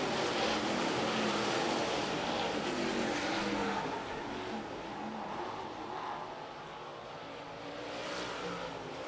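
Outlaw late model race cars roar around the oval at Sumter Speedway during a night feature, a loud continuous engine drone that swells and fades gently as the pack passes, with no speech over it.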